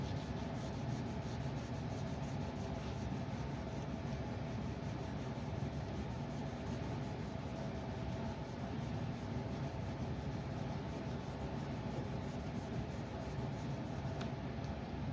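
A steel rectangular-tubing sanding block rubs back and forth over the body panel of a chopped 1937 Pontiac hot rod, a soft continuous scratchy sanding hiss at an even, fairly quiet level.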